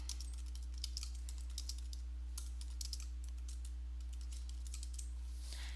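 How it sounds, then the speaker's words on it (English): Typing on a computer keyboard while entering text along a path in design software, steady quiet key clicks in bursts over a constant low electrical hum, close and alone. "start typing."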